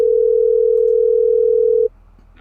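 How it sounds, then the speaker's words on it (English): A steady, single-pitch electronic telephone tone sounds loudly for about two seconds during an online call, then cuts off abruptly into quiet room noise. "phone's ringing."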